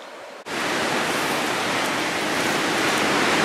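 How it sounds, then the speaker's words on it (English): Big waves rolling onto the shore at Ravenscar on an overcast morning, a loud, dense, unbroken surf roar that starts abruptly and holds steady, with no voices. "you can see those big old waves rolling in"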